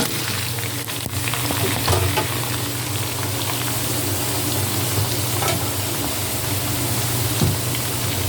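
Shrimp frying in butter in a pan, a loud steady close sizzle that holds evenly throughout with no one speaking.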